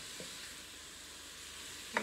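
Meat frying in a pan gives off a soft, steady sizzle while being stirred, quiet and even throughout, with a small tap near the end.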